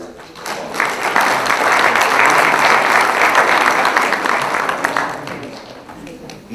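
A classroom audience of students applauds steadily for about five seconds, a dense, fairly loud wash of clapping that swells quickly and then tapers off near the end.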